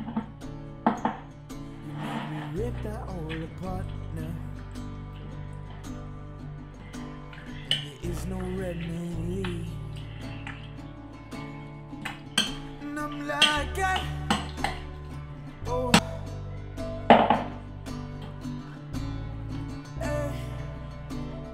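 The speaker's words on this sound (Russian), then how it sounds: "тыкву переложить в глубокую тарелку и размять в пюре" Cooked pumpkin is mashed into puree in a deep plate, with a utensil tapping, scraping and clinking against the dish in irregular, close strokes and no talk.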